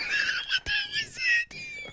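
A voice imitates a high-pitched scream in a few shrill bursts with brief breaks between them, close and moderately loud.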